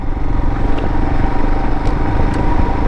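Royal Enfield Himalayan motorcycle engine braking on gravel: a steady, loud, low thrumming engine note with rough mechanical texture that stays close for the whole stretch.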